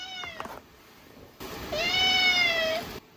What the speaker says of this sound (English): the cat would like to say hi as well